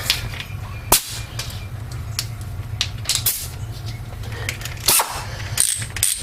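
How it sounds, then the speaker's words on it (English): A pneumatic air ratchet run in reverse gives several short, sharp bursts over a steady low hum in a garage, at work on an F-150 upper ball joint and control arm. "Reverse my ratchet after I put air to it."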